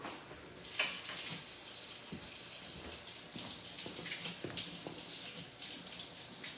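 Water running from a tap during rinsing, a quiet steady hiss of flow with small splashes and clinks, close by and fairly faint.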